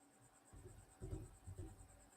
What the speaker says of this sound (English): Anyone hear crickets?